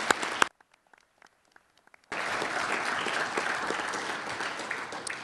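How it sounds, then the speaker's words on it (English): Conference audience bursts into sustained applause at closing remarks, many hands clapping together after a brief quiet stretch with a few scattered claps. "So we are really ready now for a round of applause for everybody today, if you would join me."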